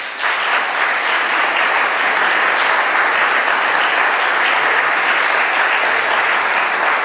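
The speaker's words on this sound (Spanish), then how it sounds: "Un aplauso para Manolo" A conference audience applauds warmly, with many hands clapping in a dense, even roar that holds steady for several seconds, close and loud, and no voices break through.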